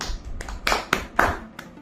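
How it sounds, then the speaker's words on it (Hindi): Several sharp claps ring out from a small group at a podcast, a sparse and uneven burst of applause lasting under two seconds with no talking. "जोरदार तालियां हो जाए राहुल यादव के लिए।"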